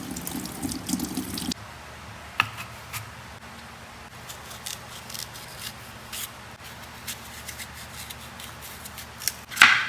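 Something being washed under running water while cooking, with a brief burst of flowing water at the start, then close intermittent splashes, drips and handling sounds, and no talking.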